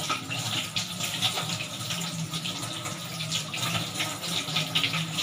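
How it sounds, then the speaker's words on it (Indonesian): A tap runs steadily at a sink as hands are washed before a nasogastric tube is placed in a child. The water makes a continuous, fairly close splashing hiss with no talk over it. "Kemudian nyalakan keran"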